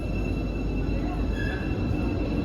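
Istanbul metro train running past at Sirkeci station, a steady rumbling roll of the carriages close by with voices over it.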